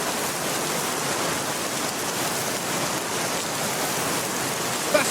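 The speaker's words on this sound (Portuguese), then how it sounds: "Tá chovendo." Steady rain falls outdoors, a continuous even wash of hiss with no breaks or individual drops standing out, moderately loud and close, with no voices.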